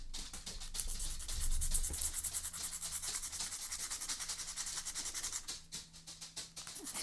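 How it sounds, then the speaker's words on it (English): Sandpaper scrubbing the printed graphic off a small replica skateboard deck, a steady rapid back-and-forth rasp that stays close and fairly loud throughout, with no one talking. "what I'm going to do is I'm going to sand away the image"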